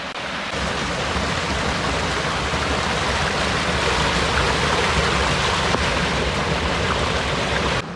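A small creek flows over rocks by a lakeside campground, giving a steady, close, broadband rushing and gurgling of water that runs alone without pause.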